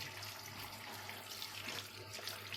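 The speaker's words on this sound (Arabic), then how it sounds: "كل واحدة امسكها كده اغسلها تحت المية كويس" Tap water runs steadily while tomatoes are washed in a kitchen sink, a continuous close splashing stream with no talk.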